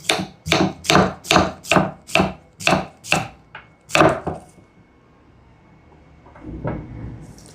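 Knife chopping potatoes crosswise on a cutting board, about nine sharp, evenly spaced chops close up, then a pause and a quieter scrape or knock near the end.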